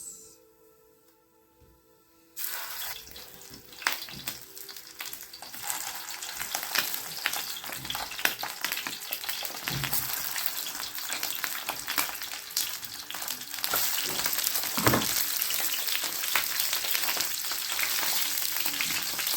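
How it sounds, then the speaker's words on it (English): Australian sausages frying in hot, splashing oil in a pan, a steady loud crackling sizzle that starts suddenly after a quiet moment and continues with sharp pops throughout, no talking. "So now my favorite part, now cooking the sausages."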